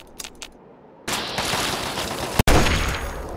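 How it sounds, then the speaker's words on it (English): Gunfire in the video game Fallout 3: a couple of faint early pops, then a loud, sustained burst of shots with a sharp crack near the end, close and dense. "Yep. 4 shots. 5 shots. That's like a fourth of our ammo."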